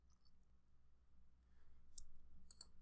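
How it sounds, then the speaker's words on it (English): A computer mouse is right-clicked during spreadsheet work, a sharp, faint click near two seconds and a pair of quick clicks around two and a half seconds, alone over quiet room hum. "right-clicking on the column I want to replace values in"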